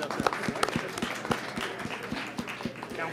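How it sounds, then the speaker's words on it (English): Scattered applause from a modest audience at an evening mayor's public safety forum, a few seconds of uneven, moderately loud clapping heard without voices. "You ought to give yourselves a round of applause."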